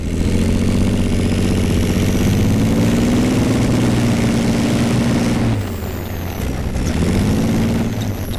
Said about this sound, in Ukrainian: Наскільки я розумію, я зараз сиджу на серці цього танка на двигуні.